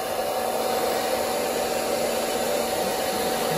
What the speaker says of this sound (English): And then take a hair dryer.